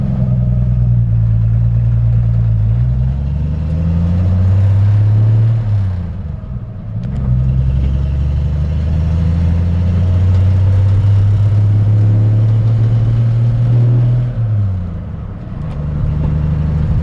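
A 1956 Ford F100 truck engine on a drive, a loud, close, steady rumble that climbs in pitch as it speeds up, drops twice during gear changes, then pulls up again.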